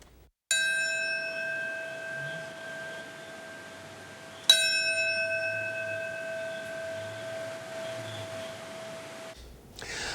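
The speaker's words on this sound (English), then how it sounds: "A solemn bell toll in New York today as the city and the rest of the country remember the lives lost in the September 11th attacks." A large solemn bell in New York tolls twice for the September 11 remembrance, each loud struck note ringing out and decaying slowly over a quiet outdoor background.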